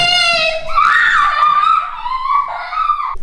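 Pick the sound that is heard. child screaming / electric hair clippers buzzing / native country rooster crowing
child screaming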